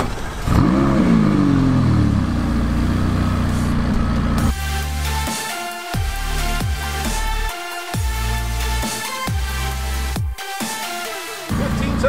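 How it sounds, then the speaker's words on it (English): The V8 engine of a 2020 McLaren 570S Spider revs hard repeatedly, each burst climbing quickly then dropping, loud and close with the crackle of the exhaust. "how quickly that V8 actually spools up"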